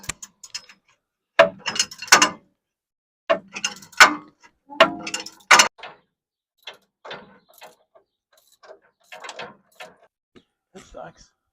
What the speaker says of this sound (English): So I've got a 3/8 inch ratchet here with an adapter on that socket.